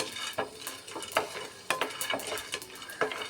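Peanuts roast in a pan on a low flame for chutney powder, stirred with a spatula that scrapes and clicks in an uneven rhythm over a soft background sizzle, close and without talk.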